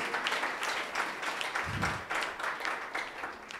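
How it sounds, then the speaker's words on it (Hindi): A church congregation claps along at a moderate distance, a continuous spread of hands with a brief low thump partway through. "जोर से तालियां बजाइए मेरे भाई"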